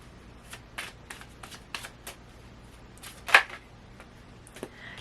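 A deck of tarot cards being shuffled in a quiet room, a run of soft riffling flicks and taps over about five seconds, with one sharper snap near the end. The cards are close and moderately loud, and nobody speaks.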